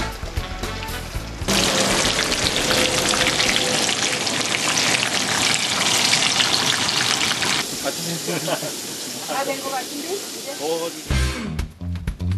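Stuffed chili peppers coated in flour and egg fry in a generously oiled pan, giving a dense, loud sizzle and crackle that eases after several seconds into quieter spattering, with clattering toward the end.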